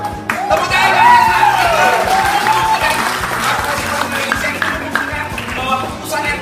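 An audience at a presentation breaks into sustained applause, a dense wash of clapping mixed with crowd voices and a rising whoop, fading slightly over several seconds.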